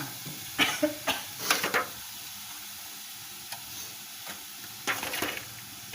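Pork sizzles and scrapes in a hot pan as it is stir-fried, with a few brisk bursts early on and quieter sizzling between.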